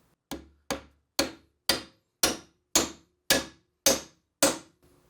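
Nine sharp, evenly spaced impacts of a 3D printed plastic hammer ring out one after another in a steady rhythm, each a hard knock with a quick decay, close and clear.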